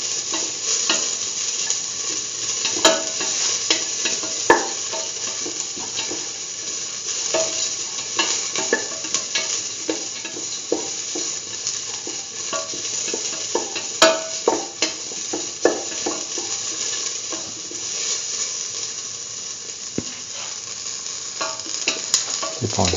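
Lentil curry sautéing and being stirred in a pan, a steady close sizzle with frequent scraping clicks of the utensil against the pan throughout, no voices.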